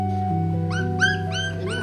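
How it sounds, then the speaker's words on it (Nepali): A tiny puppy in a litter whimpers and yips in a rising, broken series of high cries against a steady tonal hum in the background, close to the listener with no talking. "कुकुरले टोक्छ नगरिदिनु"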